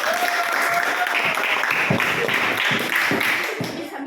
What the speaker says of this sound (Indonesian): Tepuk tangan untuk kelompok tulip.